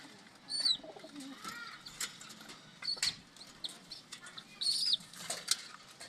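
Homing pigeons kept as a flock return from a half-hour flight, with bursts of wing flapping and claps close by, plus occasional soft calls; no talk is heard.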